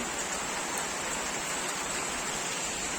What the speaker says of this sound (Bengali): আর বাইরে দেখো কেমন বৃষ্টি হচ্ছে